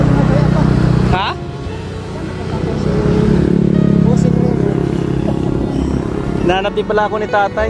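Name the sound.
old motorcycle engine running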